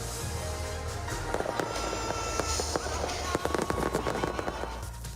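New Year's Eve fireworks over Churchill Square in downtown Edmonton pop and crackle in rapid scattered bursts over a loud, continuous crowd and outdoor rumble, with voices in the background.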